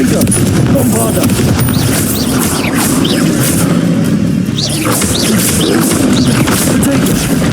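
Confringo and Bombarda explosion spells from the video game Hogwarts Legacy, heard as repeated booms and bursts inside a dense, steady wash of loud combat noise.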